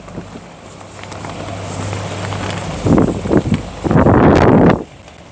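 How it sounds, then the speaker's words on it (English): Gusty wind roars across open water, a low steady rush that swells into two louder buffeting bursts near the end. "it's kind of windy though, Chris."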